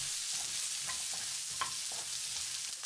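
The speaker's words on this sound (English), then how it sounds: "When the garlic starts to be golden, add the onion and the carrot. Stir for 30 seconds." Garlic, onion and carrot stir-frying in a pan for chicken chop suey, a steady bright sizzle with a few soft clicks of stirring scattered through, close and even, with no voices.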